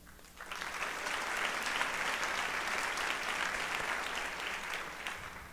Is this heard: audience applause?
yes